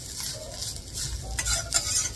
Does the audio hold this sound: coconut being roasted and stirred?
yes